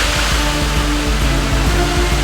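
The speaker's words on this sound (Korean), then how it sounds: "높이만도 180m에 달한다는 천하폭포" Tianhe Waterfall, a 180 m cascade in China's Taihang Mountains, pours with a loud, steady, close roar of rushing water that holds constant throughout, with no voices.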